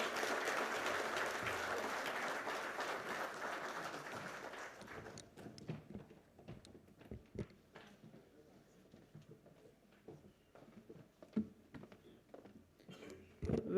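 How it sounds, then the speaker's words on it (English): An audience at a logistics summit greets a speaker with a round of applause that is dense and steady at first, then thins after about five seconds into scattered claps, shuffling and faint room noise. "please welcome with a huge round of applause"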